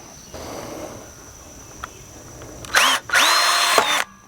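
A power drill drives self-tapping screws through wood into metal, two close, loud whirring bursts that ramp up in pitch, after a quiet stretch with a faint click.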